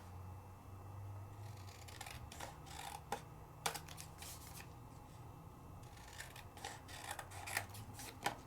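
Scissors snip and trim paper for a craft project, a string of quick crisp cuts and rustles close by with faint handling noise between them.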